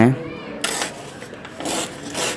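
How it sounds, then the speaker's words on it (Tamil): Paper is sliced along a ruler for a paper ship craft, giving close scraping rasps in two or three short strokes, beginning right after a voice briefly speaks. "நான் ஸ்கேல் வச்சு கட் பண்ணிக்கிறேன்"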